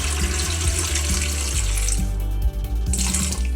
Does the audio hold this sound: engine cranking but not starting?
no